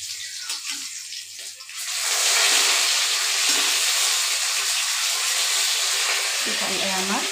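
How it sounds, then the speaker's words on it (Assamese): Fish frying in a pan in a home kitchen, a broad steady sizzle that swells after a brief quieter start and then holds loud and constant, with a faint utensil clink near the end. "মাছখিনি ফ্ৰাই হৈ গ'ল আমাৰ।"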